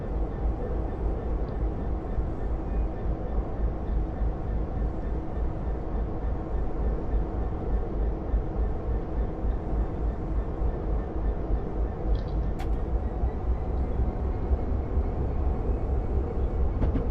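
Simulated Class 66 diesel locomotive from Train Sim 2019 on the Ipswich to Felixstowe line, a steady low engine drone with rhythmic wheel and rail rumble throughout, one brief sharp click near the end.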